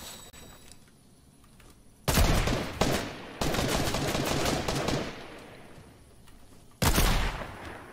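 Pulse rifle gunfire in the Fortnite video game, fired in loud rapid bursts: a sharp volley, a sustained stretch of automatic fire, then one more burst near the end, with no talk.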